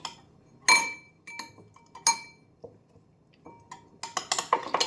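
Egg being stirred in a bowl while mixing cake batter, giving a run of light clinks and taps against the bowl, sparse at first and then quicker and denser near the end, close and clear with no talk.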